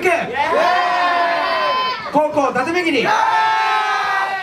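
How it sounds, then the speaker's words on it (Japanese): A crowd cheering and yelling at a live rap battle while an MC loudly calls out the contestants' names over the noise, the shouting voice dominating throughout. "大きな声と歓声お願いします"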